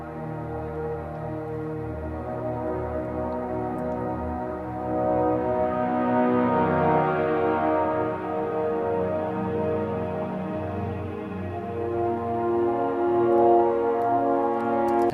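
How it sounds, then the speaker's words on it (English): A brass section holds sustained harmonic chords in a music track, rich and steady with a swell in the middle and no voices. "the actual harmonic structure is being solidified by the brass, which sounds like this."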